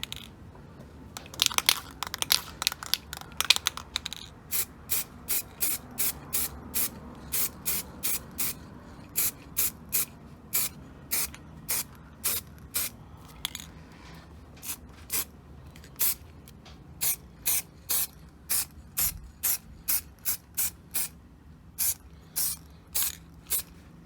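An aerosol coating can hisses in a long run of short, regular bursts over a leather steering wheel from about 12 inches away, quick and clustered at first, then evenly spaced, close to the listener.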